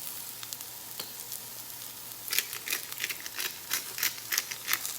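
Onions and sweet potatoes, salted and peppered, cook in a pan for a kale and sweet potato hash. A soft hiss turns busier partway through, with crackling pops and light stirring rustles.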